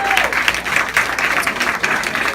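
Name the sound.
audience applause for a volunteer at a live performance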